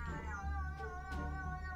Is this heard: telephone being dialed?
no